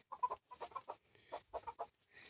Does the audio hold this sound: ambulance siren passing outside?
no